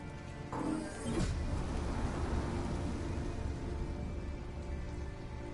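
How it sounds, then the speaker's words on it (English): Heavy rain pours steadily in the video game Detroit: Become Human, a dense, constant wash of drops on surfaces with a brief louder swell near the start. "it's pouring rain"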